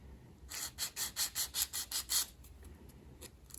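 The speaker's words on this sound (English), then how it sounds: "We'll use a soft sanding stick here just to maintain the curve." About eight rhythmic back-and-forth rasping strokes of a soft sanding stick on a curved 1/200 scale model steam pinnace part, close and soft, followed by a few lighter scratches.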